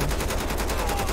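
Rapid automatic gunfire in GTA 5 zombie mode, a steady, dense stream of close, loud shots with an even rhythm and no pause.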